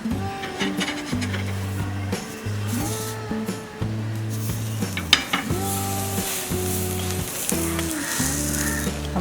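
Butter-coated garlic bread sprinkled with peri peri spice mix roasts on a tawa with a soft, steady sizzle, while a rhythmic series of thumps and scraping knocks repeats over it close by, with no voices.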